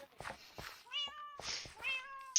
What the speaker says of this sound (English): Whose Right. cat is this?